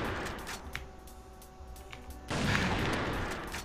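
Gunfire in the video game CrossFire: a few sharp shots crack over a quiet stretch, then a louder burst of firing and noise takes over near the end.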